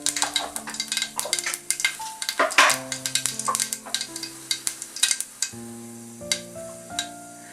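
Mustard seeds spluttering in hot coconut oil in a small pan, rapid irregular pops and crackles over a steady sizzle, close and fairly loud, with brief metallic clinks.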